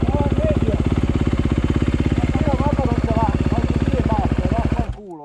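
A GasGas or Honda off-road motorcycle with an aggressive engine map idles loudly and close while standing still, a steady rapid thumping beat that cuts off abruptly near the end, with a voice speaking over it.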